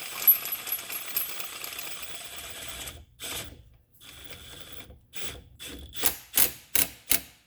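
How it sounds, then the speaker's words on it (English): Tightening a nut on a bearing press tool during a 2014 Toyota Venza bearing installation, heard as steady ratcheting clicks that break into short separate bursts, ending with several loud sharp clacks, close and alone. "And then tighten everything up with your nut."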